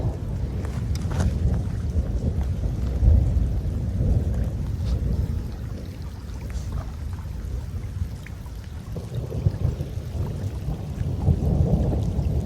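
Low, continuous thunder from a summer storm over a mountain lake rumbles and rolls overhead for several seconds, with swells of deeper booming and steady rain hiss underneath.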